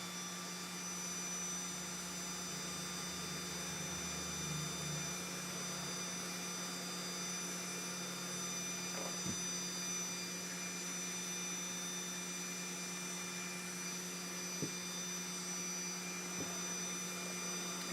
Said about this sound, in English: So, extractor fan, hot air,